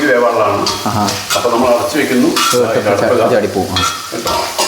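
Chicken roast fries in a pan with a loud, continuous sizzle and repeated clattering scrapes as it is stirred, with a voice faintly mixed in underneath.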